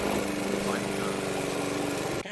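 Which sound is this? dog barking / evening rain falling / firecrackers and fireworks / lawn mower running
lawn mower running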